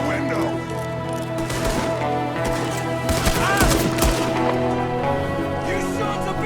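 Gunfire from a window in the video game Red Dead Redemption 2, a continuous loud barrage of overlapping shots and cracks over a busy battle din, with people shouting throughout.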